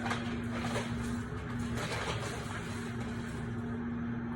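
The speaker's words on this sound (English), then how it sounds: "My garbage truck is outside." A garbage truck idling outside, heard from indoors in a kitchen as a steady low engine rumble with a constant hum, muffled and fairly faint, continuing unbroken throughout.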